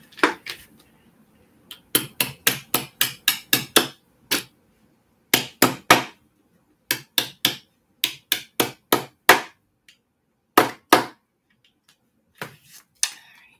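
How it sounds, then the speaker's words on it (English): A small hammer taps repeatedly on a metal magnetic snap fitted to a journal cover, giving sharp, close, evenly struck clicks in quick bursts separated by brief pauses, with no talking. "I have a little itty bitty hammer."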